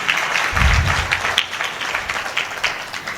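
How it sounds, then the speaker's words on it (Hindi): Applause from a gathered audience at a live birthday celebration event, a steady wash of clapping throughout with a brief low rumble early on, moderately loud and with no speech over it. "हम सब तालियां बजाकर उनका शुक्रिया कहना चाहेंगे"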